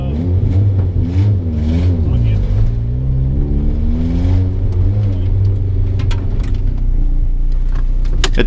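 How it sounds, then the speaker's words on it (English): A race car with a broken exhaust and a blown turbo flange gasket revs hard and rumbles loudly up close at a circuit, pitch rising and falling, with someone talking over it. "I think exhaust is broken somewhere."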